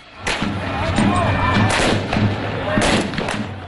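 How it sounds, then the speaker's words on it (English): Fireworks are fired over the walls of El Ittihadiyya Palace, the Egyptian presidential seat in Cairo, during a violent night protest. About five sharp bangs ring out one after another over a constant crowd roar. "A young man shoots fireworks over the walls of the palace"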